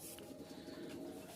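A Rajshahi Giribaz pigeon coos faintly in a low, continuous murmur, distant and quiet.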